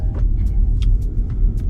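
A new electric BMW 5 Series Touring on a test drive, with a loud, steady low rumble of road and cabin noise and a few faint clicks and knocks over the top.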